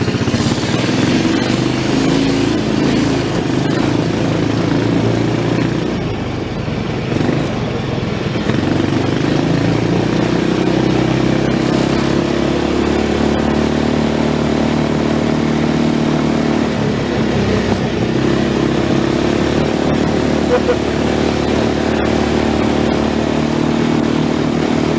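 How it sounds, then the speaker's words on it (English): An old forgotten amusement park ride engine runs steadily with a slipping clutch, a loud continuous mid-pitched motor drone with slight surges in load, close by and alone throughout. "That clutch really slips."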